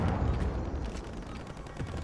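Gunfire in the video game Call of Duty Warzone, a dense rumbling burst of shots with heavy low-end booms, continuous and fairly loud across the moment, with no talking.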